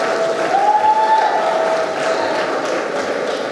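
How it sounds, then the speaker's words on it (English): A crowd at a gala show applauds its sponsors, a steady loud wash of clapping and murmur with a faint sustained tone drifting through it, never fully settling. "would you give them a round of applause?"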